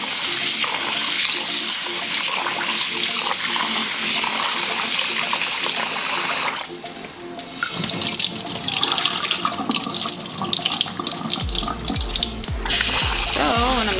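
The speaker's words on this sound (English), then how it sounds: "So now I'm gonna wash it. Nothing to it but to wash." Rice being washed under a running kitchen tap, with a loud steady stream of water followed by sloshing and swishing as the grains are rinsed.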